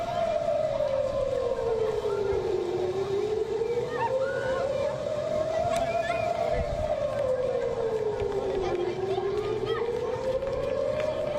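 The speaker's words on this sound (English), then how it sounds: "Their residents were herded indoors by air raid sirens." Air raid siren wailing across Israel, a single loud continuous tone that rises and falls slowly in long sweeping cycles, with faint crowd noise and traffic underneath.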